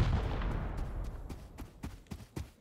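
Video game gunfire during a raid in a survival game, a volley of sharp shots trailing off into several spaced cracks over a low rumble.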